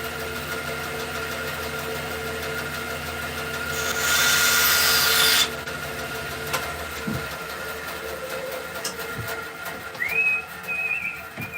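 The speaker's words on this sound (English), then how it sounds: "Let's go bandsaw that boy." A bandsaw slices through a wooden spinning top blank in one loud, steady cutting burst of about a second and a half. A quieter workshop hum runs before and after, with a few faint knocks.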